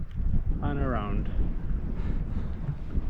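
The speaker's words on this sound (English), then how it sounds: "A bit windy up here, mind." Wind buffets a microphone on an exposed Lake District hilltop in winter, a steady broadband rush with gusty surges throughout, and a voice speaks briefly over it early on.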